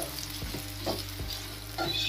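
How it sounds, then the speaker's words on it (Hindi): Raw turmeric shallow frying in oil and ghee gives a steady close sizzle, with a few soft stirring scrapes at intervals and no talk. "ऐसे डीप फ्राई तो नहीं बोलेंगे दोस्तों, शैलो फ्राई कर लेंगे इसे"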